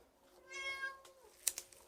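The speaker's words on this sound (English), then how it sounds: "The cat says hello." A cat meows once in a drawn-out, clear call, fairly close, in a quiet room where acrylic painting is under way, followed by a couple of faint clicks.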